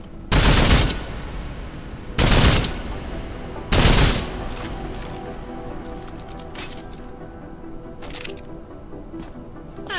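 Silenced weapon fire at a shooting range in Deus Ex Mankind Divided: three loud, close bursts about a second and a half apart, each a dense rattle of rapid shots, followed by a long, faint reverberant tail and quiet room tone.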